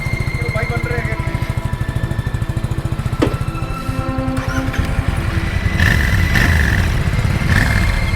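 A motorcycle engine runs steadily and close by with a rapid, throbbing low rumble on a rainy mountain road during the Hemkund Sahib pilgrimage ride from Rishikesh to Govindghat, Uttarakhand, growing louder and rougher near the end.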